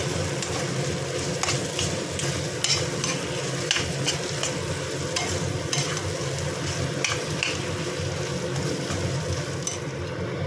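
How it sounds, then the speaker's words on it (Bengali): Mashed potato filling for aloo paratha fried with onion, green chilli and garlic in a pan, a continuous close sizzle with repeated scraping stirs of a spatula throughout. "এবার পেঁয়াজ, কাঁচা লঙ্কা, রসুন এইসবের সঙ্গে এটা ভালো করে একটু ভেজে নেব।"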